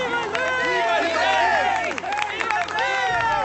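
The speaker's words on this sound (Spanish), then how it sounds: "todos aplaudieron y gritaron" A crowd in a biblical scene applauds and shouts as a new king is anointed, a loud mix of clapping, excited calls and a running babble of raised voices that thins near the end.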